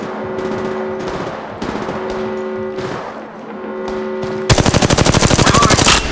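Gunfire in the mobile battle royale shooter Apex Legends Mobile: scattered sharp shots over droning tonal game sounds, then a loud, close, rapid automatic burst that rattles steadily to the end.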